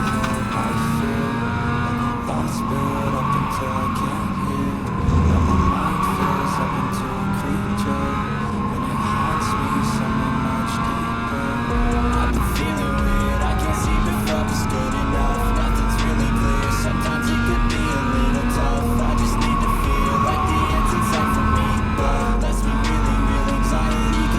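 Race car engines in an iRacing endurance race video game, a loud continuous engine drone with steady pitch and occasional shifts, heard from an in-car view throughout.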